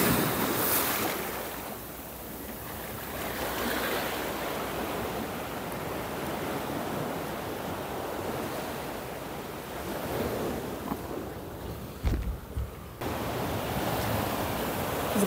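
Ocean surf at high tide in Bocas del Toro, Panama, a continuous rushing wash of waves that swells and recedes, with wind buffeting the microphone and a brief thump near the end.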